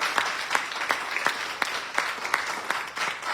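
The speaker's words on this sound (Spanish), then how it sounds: "Dale un aplauso al Señor." A church congregation at a Sunday service applauding, a loose, rhythmic round of claps with distinct sharp hits roughly every third of a second, close and fairly loud over a soft crowd bed.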